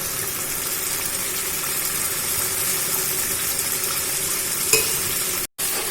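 Hilsa fish pieces stirred into a mustard, poppy seed and yogurt paste. A dense, steady sizzling hiss carries on close by, with one sharp clink near the end just before a brief cutout.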